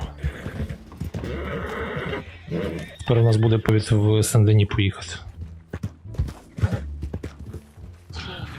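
A horse in the video game Red Dead Redemption 2 gives a loud, drawn-out whinny amid clip-clopping hooves, while someone talks over much of the scene.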